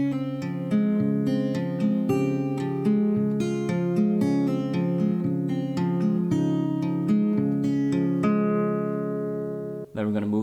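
A guitar plays a passage from a song as a steady run of ringing, plucked notes heard close up, then pauses briefly before a fresh strum.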